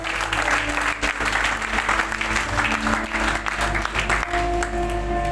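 A church congregation applauds loudly and steadily, a dense close wash of clapping with voices mixed in.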